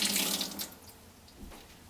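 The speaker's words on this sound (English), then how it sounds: "come to the sink, rinse out the sponge" A sponge rinsed under a running sink tap before wiping dust from a pottery pot, a brief close rush of splashing water that fades to a softer trickle.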